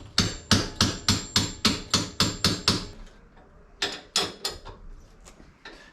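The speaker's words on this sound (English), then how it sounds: "I'm just going to whack her in place with the hammer" A hammer whacking a car suspension knuckle into place on a Subaru Legacy wagon during a coilover install: a rapid run of about ten sharp metallic blows, a short pause, then several more strikes, close and loud.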